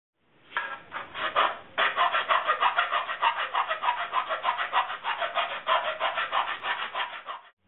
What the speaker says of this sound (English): So I'm going to file down the middle of this.